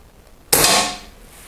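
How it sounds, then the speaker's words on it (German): Air gun firing a diabolo pellet at about 6.4 joules into a block of ballistic gelatin, one sharp loud report with a bright, quickly fading tail, alone without speech. "machen wir mal einen Schuss über den Kroni irgendwo vorne in den Kasten rein"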